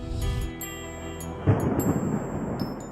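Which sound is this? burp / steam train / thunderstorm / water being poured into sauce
thunderstorm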